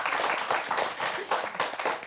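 Steady, dense applause from an audience at a New Year's-themed evening show in Gomel, a continuous rush of many hands clapping at close range for about two seconds, with no one speaking over it.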